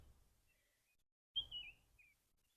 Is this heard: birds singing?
yes